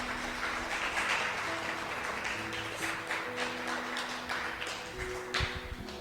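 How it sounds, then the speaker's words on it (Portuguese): A church congregation applauds together during a worship service, a steady wash of many hands clapping throughout, fairly loud and continuous, with a few sharper claps near the end. "Se você puder agora, aplauda o Senhor mais uma vez."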